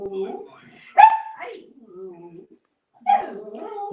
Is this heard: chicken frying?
no